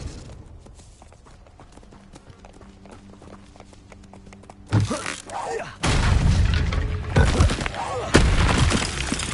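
Spell-casting effect from the Hogwarts Legacy video game: a quiet, faintly humming stretch gives way to a sudden loud magical blast, then two more heavy surging bursts that crackle and boom close up.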